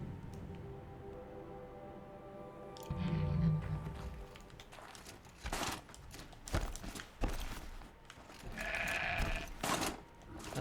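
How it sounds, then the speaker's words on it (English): A goat bleats in the video game Horizon Zero Dawn, The Frozen Wilds, a wavering call over game ambience, footsteps and other sound effects. "Silly goat."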